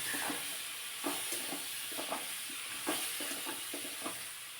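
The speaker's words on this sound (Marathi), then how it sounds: "फ्लावर असा फोडणीमध्ये चांगला परतून घेतला ना मस्त चव लागते त्याची" Cauliflower florets being stirred and sautéed in hot oil with a spiced tempering, a steady background sizzle broken by soft, irregular stirring scrapes and knocks from a spoon in the pan, with no talking.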